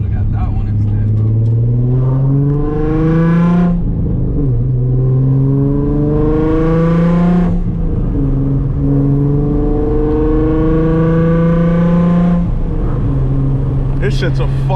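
An FBO-tuned, E85-fuelled Nissan 350Z HR with 325 wheel horsepower accelerates hard from inside the car, the engine note rising repeatedly through the gears with three clear upshifts, loud and close.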